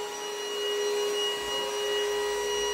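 A vacuum cleaner running on its low power setting, a steady close whine with a constant tonal hum that stays level throughout, no voices over it.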